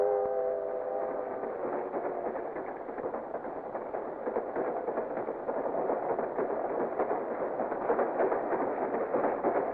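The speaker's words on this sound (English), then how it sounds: "Tom and Jane were playing with their trains." Steady rumble of a moving train with a brief whistle-like tone at the start, continuous and fairly loud throughout, no voices.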